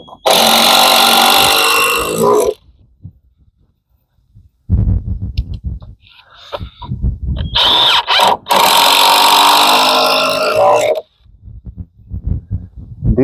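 A power drill drives screws into wood in an off-grid courtyard build, two long loud whirring bursts with clicking gaps and muffled handling between them.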